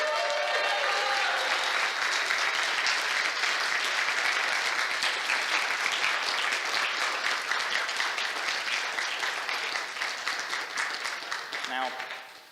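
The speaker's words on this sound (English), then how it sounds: "This is the woman you should be clapping for." Sustained audience applause for Tara Reade at the CPI Chicago political conference, a dense loud wash of clapping that holds steady for most of the span before tapering off near the end, with a voice briefly audible early on.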